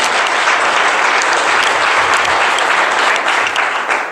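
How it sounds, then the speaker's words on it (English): An audience at a seminar breaks into a big round of loud, dense applause, sustained and steady for several seconds with faint crowd murmur beneath. "Please give me a big round of applause."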